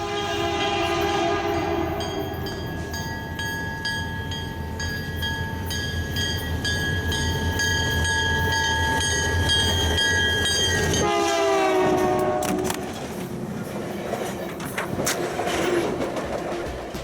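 A Seattle-bound Rocky Mountaineer passenger train passes near Bellingham, Washington. Its horn sounds a long, loud, steady blast, then the horn cuts off and rumbling wheels and cars roll by close.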